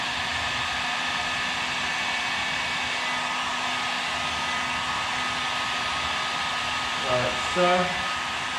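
A heat gun blows a steady, loud whirring airflow while warming vinyl wrap around the edges of a BMW Gran Coupe, running continuously up close, with a brief voice and a few light handling knocks near the end.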